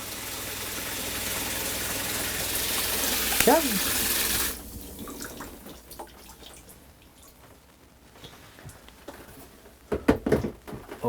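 Water gushes steadily from a tap inside a Winnebago View RV for several seconds before cutting off. Quieter room noise and a brief spoken word follow.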